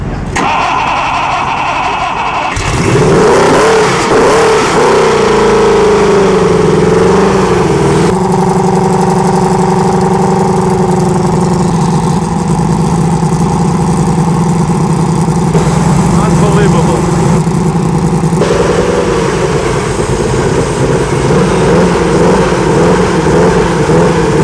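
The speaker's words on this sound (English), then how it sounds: "And we're going to hear this engine momentarily." A classic car engine with desmodromic valves, running on exotic fuel at the 2015 Amelia Island Concours, starts with a sharp catch and then revs loudly and repeatedly, rising and settling between blips, close by with voices underneath.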